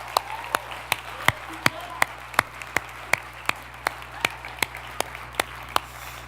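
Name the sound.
audience applauding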